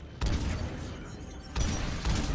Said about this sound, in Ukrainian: Вона що, ракетами стріляє, ця гвинтівка, я не розумію